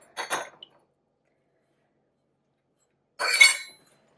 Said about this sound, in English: This is ice water. I do have a little ice cube in here.